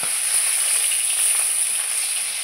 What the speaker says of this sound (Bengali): গরম তেলে মাছগুলো ছেড়ে দিচ্ছি।